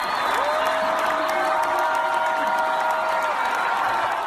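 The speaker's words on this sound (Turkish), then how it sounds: "Tribünler onu ayakta alkışladı." A stadium crowd applauds and cheers a 100-year-old runner's 100-metre age-group world record, a dense, steady wash of clapping with whistles and whoops running loud through the whole stretch.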